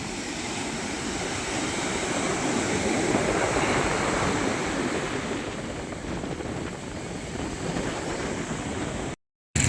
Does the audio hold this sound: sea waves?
yes